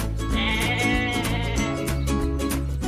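Several goats bleat loudly in quick succession, their wavering cries overlapping close by.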